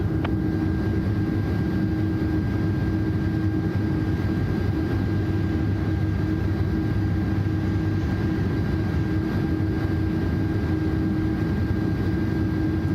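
Aircraft engines droning steadily during takeoff in Microsoft Flight Simulator 2024, a constant low roar with a steady tonal hum, alone and unchanging throughout.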